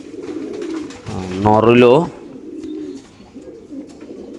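Pigeons coo close by at a bird market, with one throaty, rolling coo standing out in the middle while someone talks briefly over the scene.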